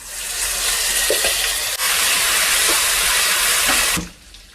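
Ginger garlic paste dropped into a hot pan with cumin for a mixed vegetable curry, bursting into a loud, steady hiss of frying that runs nearly four seconds before suddenly dying away.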